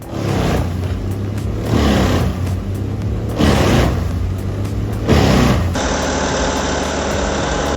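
A Volvo FH16.600 truck with a 16-litre inline-six turbo diesel runs a deep, steady drone that swells in four rhythmic revs before settling into an even idle, close and loud.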